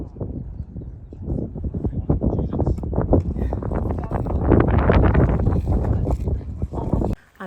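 Strong mountain wind buffets the microphone at a Shenandoah National Park overlook, producing a steady, loud rumbling roar that swells and gusts for several seconds before cutting off abruptly.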